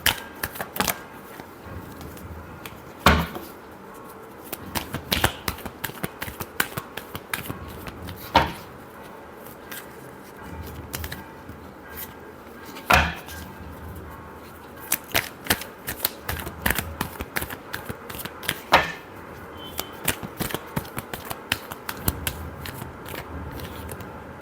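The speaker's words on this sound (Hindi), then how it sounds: "Last shuffle." Tarot cards are shuffled by hand in repeated quick riffles and snaps, crisp close clicks and flutters coming in uneven bursts with brief pauses between, and no voices over them.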